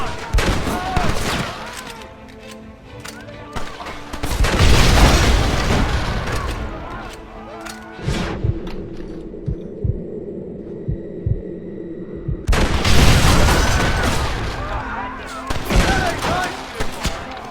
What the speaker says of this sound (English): Marston, what about the Gatling gun?